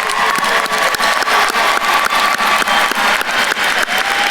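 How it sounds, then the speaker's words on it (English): A crowd applauds at a university commencement ceremony for a school of social work, dense steady clapping with a few cheers mixed in, loud and close. "Let's do another round of applause"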